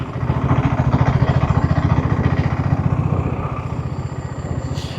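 A 2025 BSA Gold Star motorcycle engine on a test ride, a steady loud single-cylinder thump with rapid regular pulsing throughout, close and continuous with no talk.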